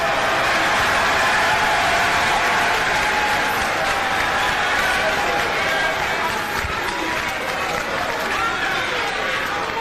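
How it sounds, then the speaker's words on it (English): Members of parliament in Ghana breaking into rapturous applause from all sides after a speech, a loud sustained wash of clapping and crowd noise filling the chamber for the whole stretch. "rise up with such rapturous applause from all sides of the political divide"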